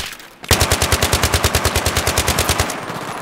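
Sustained automatic machine-gun fire from the Battlefield 3 campaign mission Operation Guillotine, a rapid steady burst of evenly spaced loud shots lasting a few seconds, with no talk over it.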